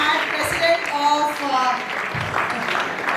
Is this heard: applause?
yes